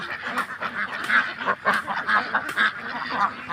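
Belgian ducks at a duck farm quacking and honking in a busy flock, overlapping calls repeating steadily throughout, fairly close.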